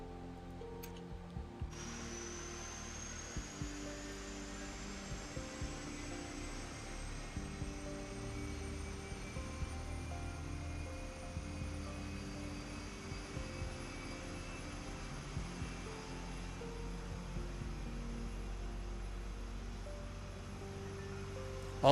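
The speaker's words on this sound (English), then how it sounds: "Let's go ahead and start up some engines here." MD-11 airliner engines spooling up in a flight simulator, heard from outside the aircraft: a thin, steadily rising jet whine over a low continuous drone, with faint mechanical ticking scattered throughout.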